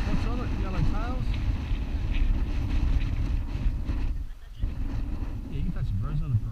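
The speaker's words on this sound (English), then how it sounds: "It's windy here." Gusty wind rumbles over the microphone on a fishing boat outdoors, loud and continuous with a brief lull, while people talk faintly beneath it.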